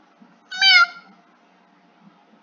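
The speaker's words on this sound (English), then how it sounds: "Those cats are mewing." One short, clear meow from a nearby tabby cat in an otherwise quiet room.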